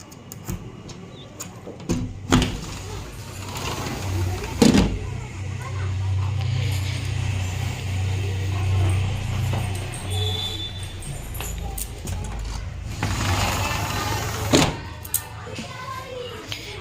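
Vehicles pass along a road outside a house on a cold, wet morning, their rising and fading rumble carried in a couple of broad swells with a sharp knock or two, heard under a voice speaking.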